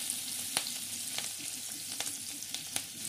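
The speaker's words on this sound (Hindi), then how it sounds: "तो ये तेल अच्छी तरह गरम हो गया है, इसमें मैं डालूँगी हींग।" Asafoetida frying in hot oil, a steady close sizzle with faint crackles and a few sharp pops scattered throughout.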